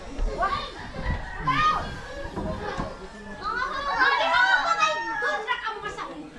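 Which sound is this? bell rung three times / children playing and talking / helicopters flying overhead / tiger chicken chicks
children playing and talking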